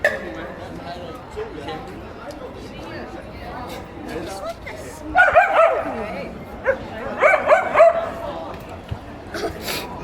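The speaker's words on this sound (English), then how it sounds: "that dog just interrupted me" A dog barks and yips in short, excited bursts outdoors at Manly Beach in Sydney, fairly close, breaking through a background of chatter from people nearby.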